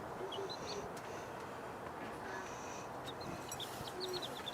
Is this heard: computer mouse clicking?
no